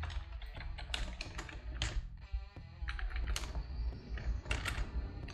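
Fast typing of HTML code on a computer keyboard, clusters of crisp close key clacks in uneven bursts with brief pauses, heard alone with no talking.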